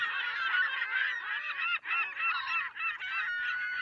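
Gulls calling by the coast at Brighton, heard in a music video: a dense, continuous chorus of honking, squawking bird cries, loud and close, with only brief dips and no speech.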